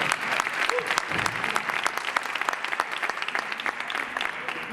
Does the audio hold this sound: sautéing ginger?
no